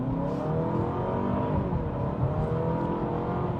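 A sport hybrid car priced under $35,000 accelerates in eco mode, giving a steady, fairly loud engine drone with rising tones throughout and no voices.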